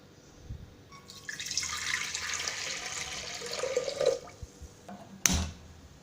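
Water poured from a cup into a pressure cooker for cooking milk rice, a soft splashing stream lasting several seconds, followed by a sharp clank near the end.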